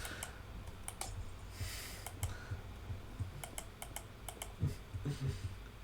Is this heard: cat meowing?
no